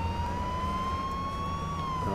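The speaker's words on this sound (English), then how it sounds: "This is the sound of the police." A police car siren in the video game H1Z1, a steady wailing tone rising slightly and holding over a low engine rumble, fairly close and continuous throughout.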